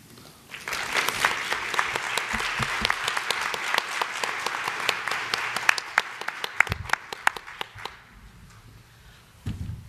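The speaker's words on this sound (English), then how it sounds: "I think we should give another round of applause to our speakers, Dr. Constantinou, Dr. Zillgitt, and Dr. Bur" An audience at a medical talk on antiseizure medications breaks into sustained applause, a dense wash of many hands clapping that rises quickly, holds for several seconds, then thins out and fades.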